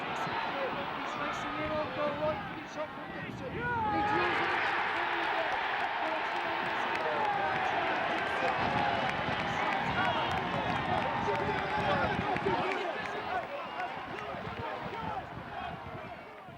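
Aldershot Town football fans cheer a goal against Farnborough Town at a Nationwide Conference match with a loud, sustained crowd roar and clapping, while a commentator talks over it.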